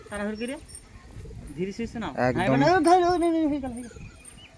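A pigeon coos in low rolling bursts while a man catches it by hand on a rainy day, close and clear, with someone talking over and between the calls.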